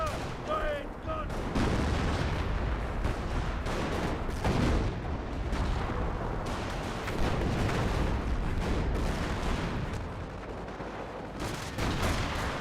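Dense gunfire and booming artillery rolling on continuously in a Company of Heroes 1 World War II battle, with rapid shots layered over heavy low thuds and explosions, loud and sustained throughout.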